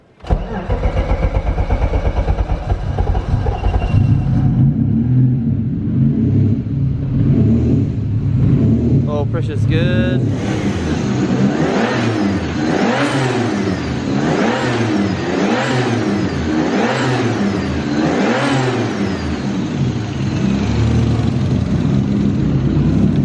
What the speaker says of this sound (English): So we'll go ahead and start it and see how she sounds.